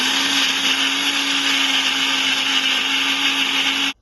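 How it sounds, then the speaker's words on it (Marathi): A blender pureeing tomatoes runs at full speed with a steady, loud whirring roar for about four seconds, then cuts off abruptly. "ग्राइंडर स्टार्ट कर वो ब्लेंडर स्टार्ट कर"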